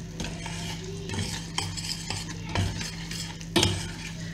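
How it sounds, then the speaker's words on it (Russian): Sugar caramel starting to boil in a pan, a soft sizzling bubble with a low steady hum beneath and a few sharp clinks and stirring knocks, close and fairly quiet. "Карамель у нас начинает закипать."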